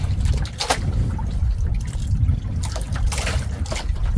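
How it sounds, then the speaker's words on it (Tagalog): Fish sauce poured into a hot skillet, a soft steady trickle and dribble of liquid with a few brighter splashy bursts over a low background rumble, close by with no talking. "Bigyan natin konting patis para may alat konti."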